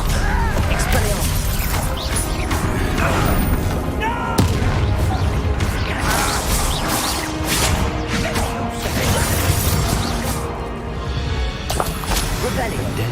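Spell blasts and explosive impacts crash one after another through a Hogwarts Legacy battle, loud and dense, with voices shouting over the din and a booming, mechanical backdrop throughout.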